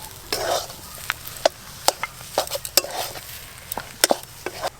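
Potato filling for aloo chop stirred in a pan, giving a string of sharp scraping clacks from a spoon against the metal over a faint background sizzle, close and irregular, with no voices.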